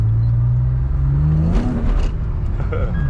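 A car with a six-speed build pulling away lightly on a test drive, engine note rising in pitch as it accelerates, then a shift and rougher rumble, heard close from inside.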